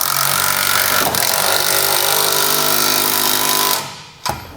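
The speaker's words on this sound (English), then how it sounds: "We can now grab a 19mm socket and tighten it down." Loud, steady rattling hammer of a power impact tool driving a 19mm socket to tighten a TorkLift tie-down bolt on a 2015 Ram 3500, running for about four seconds before stopping, then one short final burst.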